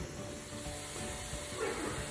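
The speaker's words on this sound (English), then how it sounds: "Our vent pipe has been going full bore this whole time" Steam venting at full force from the vent pipe of a pressure canner during canning of BBQ pork: a continuous, fairly loud broadband hiss that holds steady throughout, with no talking.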